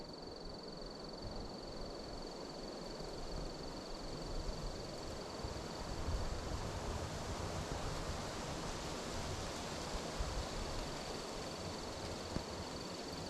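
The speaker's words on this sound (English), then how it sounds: "I hope the GoPro picks up the sound of the wind." Wind blowing across a lakeside campsite at Airey Tower Lake, Mississippi, a steady broadband rushing roar that swells slightly midway, close to the camera with no talking.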